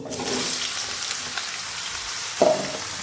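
Chopped bottle gourd (lau) tipped into a hot pan of oil tempered with black cumin, a sudden sizzling burst near the end after steady background frying hiss.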